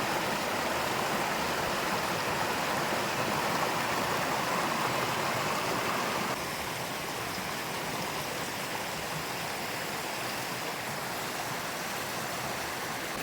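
Steady, unbroken rush of river water flowing nearby, loud and even throughout with no voices, the hiss dropping slightly in level about halfway.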